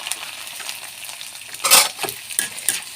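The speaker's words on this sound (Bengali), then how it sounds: "মুড়ি ভাজা হয়ে গেছে" Puffed rice (muri) fries in hot oil in a pan: a steady, close sizzle and crackle that swells into louder bursts of stirring and scraping in the second half, with no talking.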